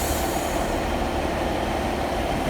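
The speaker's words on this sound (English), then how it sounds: "150, 148 now, leaving Farnworth bound for Staley Bridge." Class 150 and 148 trains pull out of Farnworth station bound for Stalybridge, a steady loud rumble of wheels and rail noise filling the whole stretch, with no talking.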